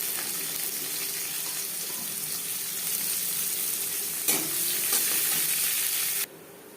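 Chopped onion fries in oil with panch phoron and torn bay leaf, a continuous close sizzle with stirring, a sharp scrape of the spatula partway through, then the sound drops away abruptly near the end.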